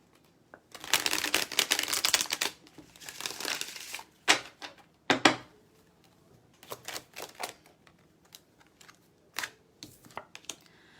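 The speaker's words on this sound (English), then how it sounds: "Let me give this a quick shuffle." Tarot cards are shuffled in quick papery bursts, followed by scattered softer taps and flicks as they are handled, close and fairly quiet.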